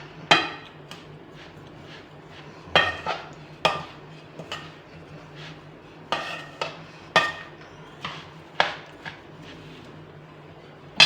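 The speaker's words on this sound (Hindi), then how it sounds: "अब इसको हम अच्छी तरह मिक्स करेंगे।" A spoon stirs sugar into a sweet mixture in a cooking pot, knocking and scraping against the metal in irregular clanks every second or so, close and fairly loud over a steady low hum.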